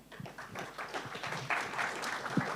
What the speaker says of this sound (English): please, a round of applause for my panelists